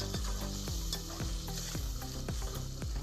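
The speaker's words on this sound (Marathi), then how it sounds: "तर आता आपण यात हिरवी मिरची जर ठेचा टाकून देऊ" Crushed green chilli thecha meets hot oil and onion in a pan for a spicy Vidarbha-style brinjal dish, giving a steady close sizzle with regular pulsing bursts throughout, no voices heard.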